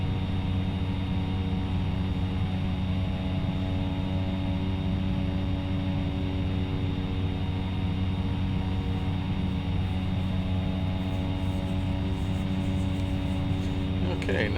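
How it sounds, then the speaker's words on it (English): Sikorsky S-65 helicopter in X-Plane 11 drones with a steady, loud, layered rotor and turbine hum that stays constant throughout, no pauses or changes. "The Wright brothers' first flight in the Sikorsky S-65"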